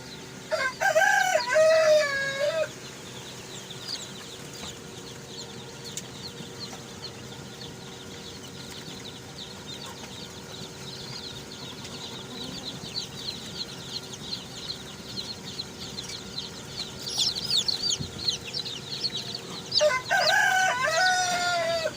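Australorp chickens and day-old chicks on a farm in Pakistan fill the air with loud rooster crows at the start and end, plus steady chick peeping and clucking throughout.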